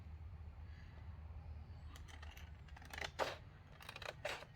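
Scissors cut through a sheet of recycled acetate: a few faint crisp snips and rustles come near the end, over a low steady background hum.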